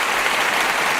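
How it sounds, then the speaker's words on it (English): An audience claps in a dense, even burst of applause for about a second, close and loud, with no voices standing out. "let me make sure I get him his applause too"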